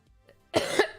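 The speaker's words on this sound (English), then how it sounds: "I am coming off of a sinus infection, so that's why I keep coughing so much." A single sharp cough bursts out after near silence, a short harsh double-pulsed hack from someone getting over a sinus infection.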